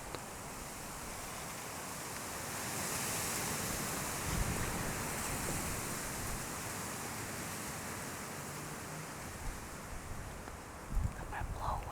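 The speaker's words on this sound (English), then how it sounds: "It's so windy out today." Strong outdoor wind gusting steadily across a cold Wisconsin campsite while bowhunting, a dense, continuous rushing roar with buffeting microphone noise and brief louder thumps; no talking.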